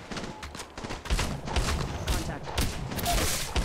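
Rapid gunfire in Apex Legends Mobile, with repeated sharp bursts of shots and thumps landing in quick clusters, loud and close, with some faint in-game voice chatter underneath.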